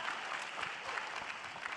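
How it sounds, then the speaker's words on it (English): A steady wash of clapping from an esports finals crowd, dense and even throughout with no voices standing out. "We'll get a round of applause for that one."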